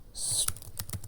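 Code being typed on a computer keyboard during a Python programming lesson, a quick cluster of light key clicks, some close together, with a soft hiss beneath.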